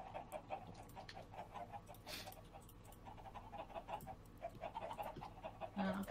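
Chickens in the Minecraft Better Than Wolves mod, soft repeated clucks and short fowl calls scattered across the clip at low level, with a few faint background noises and no speech.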